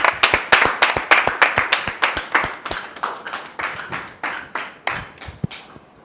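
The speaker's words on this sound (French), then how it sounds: "Merci beaucoup de recevoir notre sœur sous vos applaudissements" Audience applause welcoming a guest onto a church talk show, individual claps standing out sharply in a fairly quick, slightly uneven rhythm from a small group, close by, fading a little toward the end.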